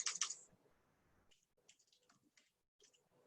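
A computer keyboard clatters as figures are typed into a slide: a quick burst of sharp, close clicks, followed by sparse, fainter keystrokes separated by quiet gaps.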